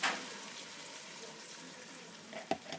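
Tomato paste goes into onions frying in a pot for aloo gosht, giving a steady close hiss and sizzle with a brief clink of a utensil near the end, under a speaking voice.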